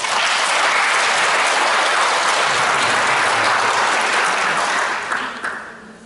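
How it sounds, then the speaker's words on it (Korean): Sustained applause from an audience at a Korean Peaceful Unification Advisory Council chapter launch ceremony in Gumi City Hall, loud and steady for about five seconds before tapering off, with no talk over it. "박수를 부탁드립니다."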